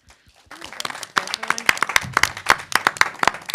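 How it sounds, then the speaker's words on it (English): An audience applauds the finalists at an enterprise pitch final, a brief voice giving way to clapping that swells quickly into loud, steady applause. "a round of applause for all of our finalists today"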